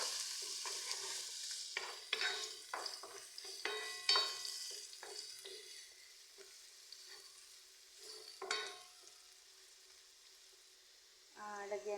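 Onion frying in oil for a creamy shrimp dish gives a soft, quiet sizzle broken by a series of clinks and scrapes from stirring in the pan, then a louder hiss near the end.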